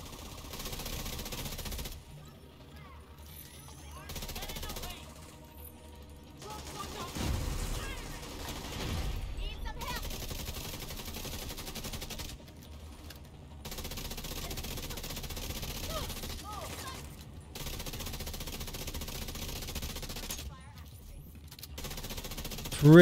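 Capacitor weapon firing in The Division 2, with repeated bursts of gunfire spread through a busy game soundscape, loud and close at moments and broken by brief quieter gaps.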